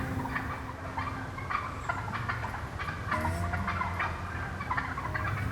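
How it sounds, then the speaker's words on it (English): A wild gobbler turkey gobbles during a fall shotgun-season hunt in western Kentucky, loud rattling calls near the decoys over steady outdoor background noise, with other turkeys around. "Oh, there's a gobble."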